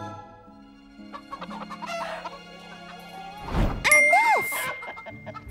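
Cartoon hens in Peppa Pig cluck over a bed of cartoon music, with a chime ringing out and a short crowing call rising near the end.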